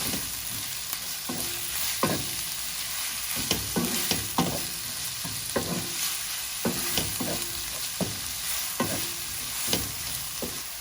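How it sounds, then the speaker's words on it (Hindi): Steady sizzling of onion, garlic and ginger frying in a pan, with intermittent scraping and stirring clicks from a utensil throughout. "प्याज को भी लहसुन अदरक भी अच्छी तरह से फ्राई कर लेंगे।"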